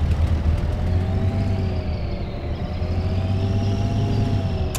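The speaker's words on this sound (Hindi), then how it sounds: "तो हम लेने वाले इस 8x8 ट्रक को, रुको इसको स्टार्ट करने देते हैं। साउंड सुनो बस इसका" A heavy 8x8 truck in the off-road video game MudRunner rumbles loudly and steadily close by, its deep engine drone holding a constant idle with a slight rising whine, and no one talking.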